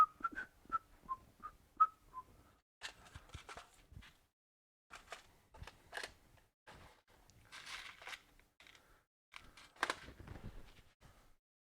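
A man whistles quietly at a workbench while modding a Commodore 8032 computer, a few short tuneful notes followed by soft clicks and handling noises, close and low in level.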